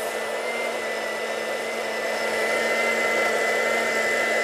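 A blender purees a blackberry basil sorbet mixture at full speed, giving a steady, loud motor whine with a constant high tone that grows slightly louder partway through, heard alone without talk.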